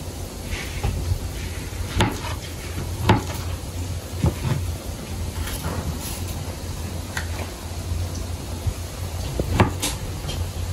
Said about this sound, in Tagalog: Okay guys, mag-prito tayo ng saging.